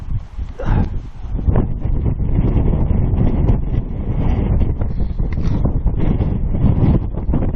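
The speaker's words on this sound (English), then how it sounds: "it's going to be windy and it's going to be noisy" Strong wind roars steadily across the microphone on a hilltop in the Peak District at sunset, a loud continuous buffeting rush with gusty surges throughout.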